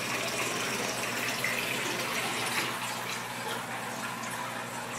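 Aquarium water drained out during a partial water change, a steady close gush of running water that holds evenly throughout without talking.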